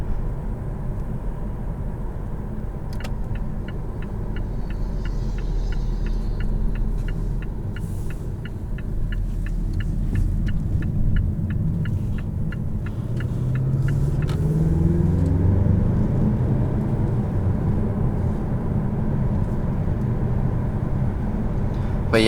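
A 2018 Mazda6 Turbo cruises on the highway with steady low engine and road rumble, a constant droning hum with a faint rhythmic ticking for a stretch, heard from inside the cabin with no talking.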